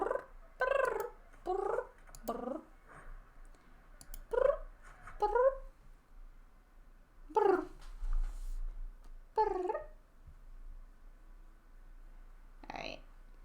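Pet cats meow repeatedly for attention, short wavering cries in an irregular series, fairly close but soft, with quiet background sound between them.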